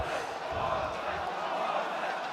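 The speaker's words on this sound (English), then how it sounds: "There's that forZe chance growing. It's louder. That's getting louder." A large arena crowd at a forZe esports match at Blast Pro Series Moscow keeps up a steady roaring chant beneath a commentator's talk.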